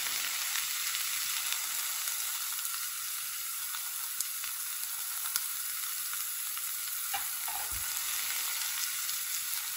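Salmon sears in a hot pan with a steady, bright sizzle that holds even and close for about ten seconds, with a few faint clicks and no voices.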